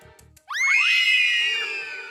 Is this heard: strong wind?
no